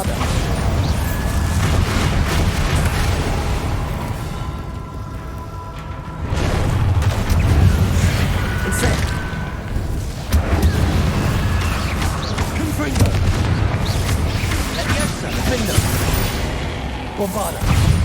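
Explosive spell impacts from Bombarda and Confringo erupt during combat in Hogwarts Legacy, heavy booming bursts with whooshes and crashing debris over a dense, continuous game soundscape.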